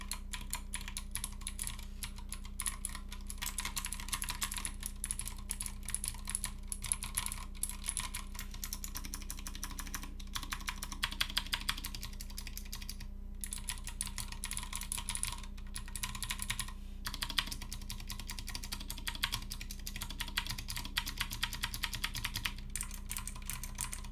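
Steady, rapid typing on an iKBC MF87 mechanical keyboard, with a continuous stream of close, crisp key clicks and clacks over a faint background hum and no talking.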